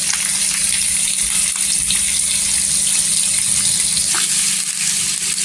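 Chopped onion hits hot oil in a pan already holding cumin seeds and curry leaves, cooking for a Maharashtrian brinjal bharit. It gives a loud, continuous sizzle and crackle that stays strong throughout with no talking.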